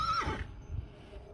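A single short whinny from a horse on a ranch, rising sharply then fading within half a second, close and fairly loud, followed by low rumbling background with no voices.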